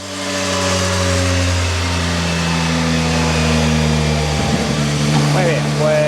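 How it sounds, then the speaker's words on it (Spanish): A Yamaha Tracer 9 GT+ motorcycle engine on a power dynamometer starts up and settles into a steady, loud idle with a low hum, then gives a brief blip of revs near the end. "Ponemos en marcha."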